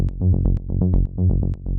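Rolling synth bass in melodic techno, a fast loud run of short low notes that leap up and back between pitches, with no voices over it.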